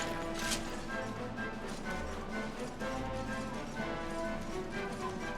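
Horse hooves clip-clop in Dragon Quest XI at a quiet, even walking pace over a low game background.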